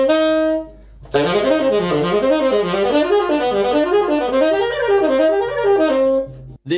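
A guitar plays chord notes as a mechanical exercise, running steady up-and-down arpeggio patterns with even timing and flat dynamics, close and clear for several seconds.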